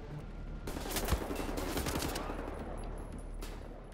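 Rapid automatic gunfire erupts in the video game Wolfenstein The New Order, a dense burst of overlapping shots lasting a few seconds, loud and close, without talk.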